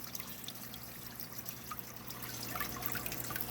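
Water from a hose fitted with a small PVC elbow, hidden beneath a rock, trickles and pours steadily into an aquarium, a soft continuous splash with a faint low hum behind it and no voices.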